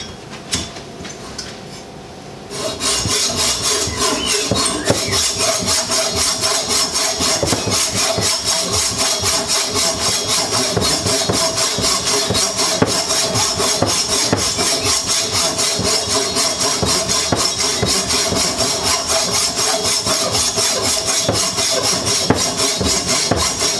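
A hand saw cuts through wood in steady, rhythmic back-and-forth strokes, close and continuous for about twenty seconds after a brief quieter start.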